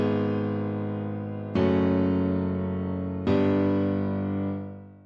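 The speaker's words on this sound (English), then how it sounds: "So it sounds like this is like bass line." A synthesized bass line melody programmed in music production software, sustained tones stepping to new notes twice at roughly even intervals, played alone with no voices.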